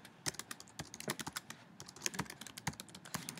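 A comment being typed on a computer keyboard: quick, irregular key clicks close up, a steady run of taps with brief pauses, no talk.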